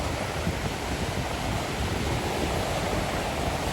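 Large, rough sea waves producing a continuous, dense roar of surf with steady broadband noise throughout and no distinct breaks, no voices.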